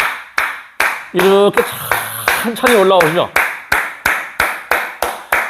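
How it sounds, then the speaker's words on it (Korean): Hands clap in a steady, even rhythm during a slow squat-style exercise with a stick, sharp and close, continuing under a man's spoken instruction. "박수를 치면서 하는 방법"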